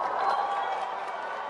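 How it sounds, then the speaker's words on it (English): Crowd applause and cheering for graduates at a graduation ceremony, a steady dense wash of clapping and voices sustained evenly throughout with no pauses. "Can I get a roaring round of applause and cheer for all our graduates?"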